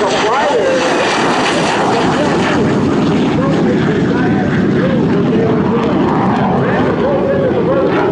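A jet aircraft at an air show, roaring loud and steady overhead with afterburner thrust, a continuous heavy rumble that fills the whole stretch.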